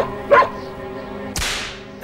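A single sharp whip crack rings out alone, then a second louder crack follows about a second later, with a faint hum underneath and no talking.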